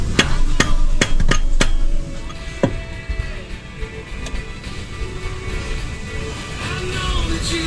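Gentle tapping on the water pump of a Suzuki Ertiga during a DIY replacement, several sharp metallic knocks close by at first, then one more, over a steady background hum in a workshop.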